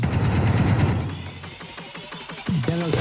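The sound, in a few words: gun fired into the ceiling in VR game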